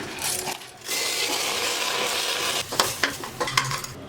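Rice is tipped into a pan of roasting moong dal for sweet pongal. A steady dry rushing hiss gives way to a few close metallic scrapes and clinks as a spoon stirs against the pan.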